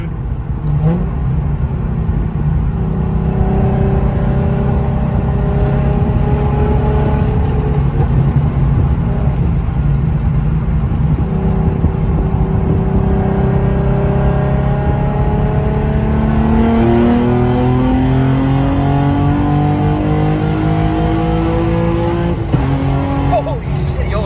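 An Infiniti G35 engine on a remote tune revs and accelerates hard, its rising and falling engine tones sweeping up through gears, loud and close, with excited voices talking over it.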